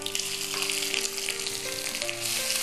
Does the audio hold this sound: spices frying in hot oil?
yes